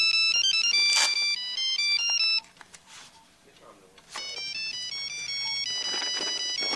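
An incoming call's electronic phone ringtone plays a repeating melodic beep pattern, pausing briefly before starting again, heard indoors in a TV drama scene with faint background sounds.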